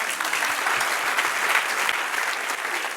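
A church congregation claps together during a Spanish-language Sunday sermon, a full, continuous wash of hands that stays strong and close throughout.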